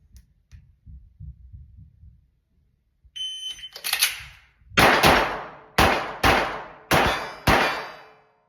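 Pistol shots fired at three targets set at 5, 15 and 25 metres in a rapid-fire practical shooting drill: five or six loud, sharp cracks in an uneven quick rhythm, preceded by faint handling noises and a short electronic timer beep.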